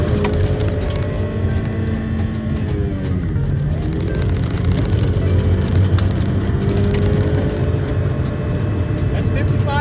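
A car whose transmission fluid has been replaced with molasses pulls away under throttle, its engine drone steady and loud, the pitch shifting as it strains through the gears.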